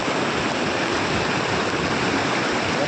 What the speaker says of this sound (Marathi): काळू धबधबा नंतर सर्वात मोठा धबधबा